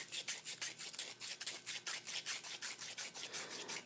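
Sandpaper folded over a wooden dowel twists back and forth inside a small hole in a fidget spinner workpiece, giving a close, rhythmic rasping scrub of about ten quick strokes per second-and-a-half, alone.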